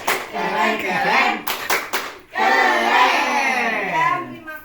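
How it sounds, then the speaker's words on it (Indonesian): Schoolchildren clap a rhythmic 'tepuk keren' cheer in a classroom at an elementary school literacy reading event, loud bursts of hands and chanted voices, with a brief pause of separate sharp claps in the middle. "kita kasih lagi aplaus tepuk keren."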